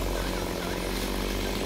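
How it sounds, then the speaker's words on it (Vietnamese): A G370 chainsaw engine roars steadily at full throttle while cutting a coconut tree, close and loud, with a harsh buzzing drone and no pauses. "cái máy chú mà đang cưa đó là máy cưa G370 nha các bạn"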